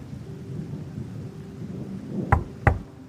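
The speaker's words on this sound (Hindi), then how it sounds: "बाहर तो बारिश हो रही है।" Rain falls steadily outdoors as a soft wash of noise, then two heavy, close thunder booms hit in quick succession near the end in an animated horror story scene.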